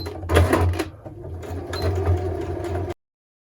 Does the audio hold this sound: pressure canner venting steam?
no